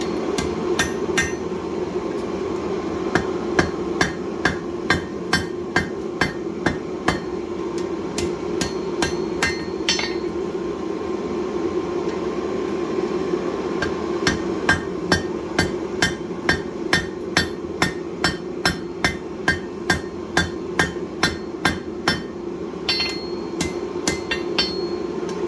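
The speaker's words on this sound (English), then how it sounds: "you just put it on the horn right at the tip, and then you can just start forging in the edges like this" A hammer forging a hot steel bottle opener on the horn of an anvil, rapid bright metallic strikes in quick rhythmic bursts with short pauses, close and loud over a steady forge roar, no voices.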